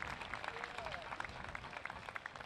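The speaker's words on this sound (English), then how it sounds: "Graduates, please give them a round of applause for their sacrifice." A university commencement crowd claps for graduates' families, a faint scattered patter of hands from a distant audience with a little background murmur.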